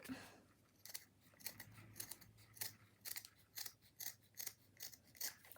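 Scissors snip through fabric for a lavender-decorated hat in a steady series of crisp, close cuts, each blade closure a short bright crunch, quiet overall with a faint background hum.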